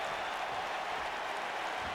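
Video game crowd in WWE2K reacting to wrestler Pentagon Jr. during an AEW Dynamite match, a steady wash of distant arena applause and crowd noise lasting about two seconds.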